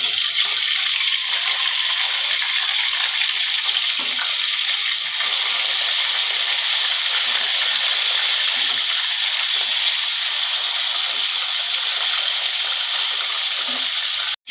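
Bhola bhetki fish frying in a pan with green chillies under a lid, a steady loud hiss and sizzle running continuously throughout with no speech.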